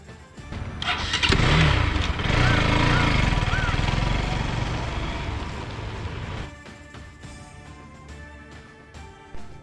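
A motorbike starts up and rides along on the way to the Karla Caves, its engine a steady, close mid-pitched drone for several seconds before it cuts away to quieter background noise.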